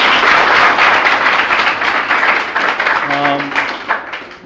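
An audience at a cyber security workshop in India applauds loudly, a thick burst of clapping that gradually thins and fades, with a brief tonal sound near the end.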